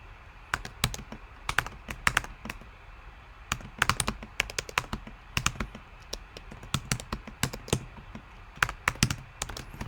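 Typing on a computer keyboard: quick irregular bursts of sharp key clicks, close and clear, with short pauses between runs of keystrokes and no voices.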